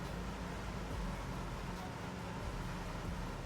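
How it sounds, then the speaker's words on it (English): Steady, loud wind roar heard inside a DC3 aircraft, a continuous broadband rush with no breaks throughout. "now I'm hearing the sound of all the wind"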